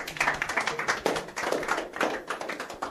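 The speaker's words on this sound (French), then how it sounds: "Merci Ophélie, on peut l'applaudir bien fort." A festival audience applauds a performer at a talent show, with dense, continuous clapping in rapid rhythmic bursts, loud and close, with no talk over it.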